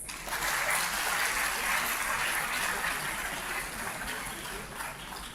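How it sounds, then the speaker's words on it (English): Audience applause at a convocation ceremony, a broad, sustained rush of many hands clapping evenly throughout, filling the hall without pause. "Can we please have a round of applause?"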